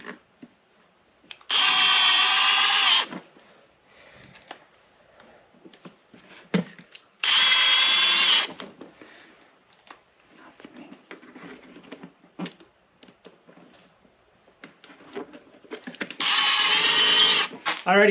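A power drill drives screws into a Power Wheels toy vehicle tire in three separate whining bursts of a second or two each, with quiet handling noises and clicks between them.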